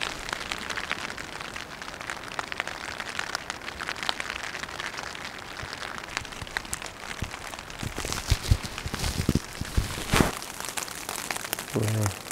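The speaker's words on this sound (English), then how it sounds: "We're starting to get some rain." Rain on a mountain trail campsite, a dense steady patter of drops hitting nearby surfaces, with a few sharper close taps and rustles toward the end.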